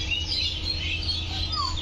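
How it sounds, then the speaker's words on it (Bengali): Birds chirp in a home garden, with several short, high tweets and calls overlapping closely in a brief burst over a soft background hum. "আমার বাগান বাড়িতে প্রচুর পাখির খুবই কিচিরমিচির শব্দ শুনতে খুবই ভালো লাগে"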